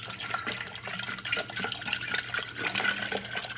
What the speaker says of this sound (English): now I'm going to go ahead and pour the brake fluid in.